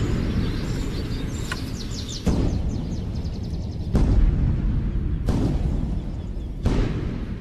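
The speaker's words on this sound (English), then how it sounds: "dynamite is detonated in the nearby quarry." Dynamite blasts detonate in a nearby quarry, several sharp, loud booms at irregular intervals, each with a rumbling tail, while birds chirp faintly earlier in the background.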